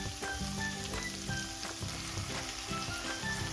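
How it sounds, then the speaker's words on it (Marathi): Coconut and onion paste frying in a pan over high heat for a sprouted moth bean curry, giving a steady, loud sizzle with faint stirring throughout. "आता खोबरं आणि कांदा ही जी आपण पेस्ट केली आहे ती यामध्ये टाकून घ्यायची आहे"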